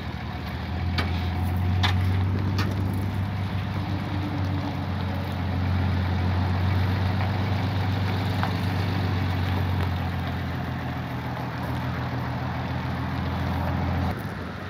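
A truck engine idles steadily near a derelict RV being hauled to the scrapyard, a low continuous rumble with a faint steady hum, running without pause throughout.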